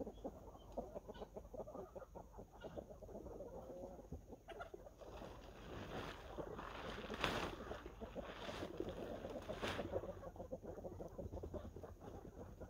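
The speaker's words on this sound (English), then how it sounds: "I gotta move the dang chicken" Chickens cluck and crow around a homestead hoop coop, a steady flock chatter with a rooster call, plus thumps and rustling of gear being moved nearby.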